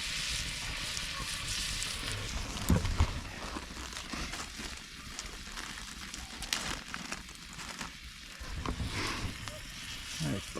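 Butter and seasoning sizzle and crackle in a hot pan at a winter bushcraft camp, a steady frying hiss close up, with a few clatters and some voice underneath.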